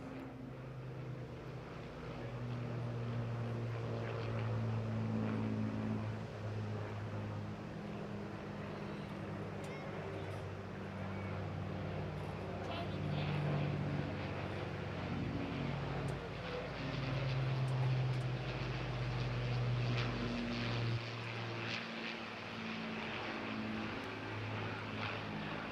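Droning piston engines of vintage warbirds, a Spitfire, Hurricane and Lancaster, fly at a seaside air festival, a steady layered hum with shifting tones rising and falling across the whole stretch amid crowd ambience.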